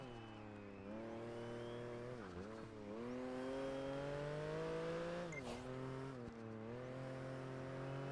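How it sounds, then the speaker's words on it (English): A race car in Project Gotham Racing 4 holds a steady, rising engine drone, then its tires screech briefly as it slides under late braking before the engine note settles again. "Brake too late there, putting it into a slide."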